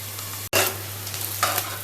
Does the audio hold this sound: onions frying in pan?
yes